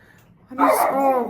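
A dog gives a single short bark or yelp indoors in a house, close and fairly loud, the sound dropping into a brief whine.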